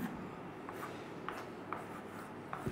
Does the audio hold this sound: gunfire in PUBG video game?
no